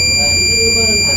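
An alarm buzzer in a locomotive cab sounds continuously as a steady high electronic tone, with a person talking underneath it.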